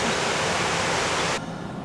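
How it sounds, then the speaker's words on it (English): Water released from a hydro dam roars as a dense, steady rush nearby, loud and broadband, then abruptly drops to a duller, quieter wash near the end. "a hydro dam right here where they're letting water out"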